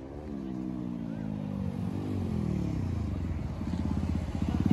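A 2400 cc superbike engine runs close by at a Diwali stunt show, a deep rumbling drone that shifts in pitch and grows louder toward the end.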